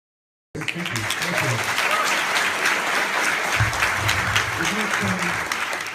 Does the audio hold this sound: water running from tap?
no